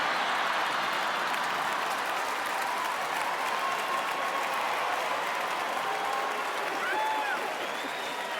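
Steady applause from a large comedy show audience, dense and sustained throughout with no pauses, a few faint voices mixed into the clapping.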